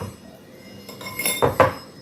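A spoon clinks sharply against a cup a few times while milk is added to coffee at a coffee stall, brief bright metallic taps over quiet background.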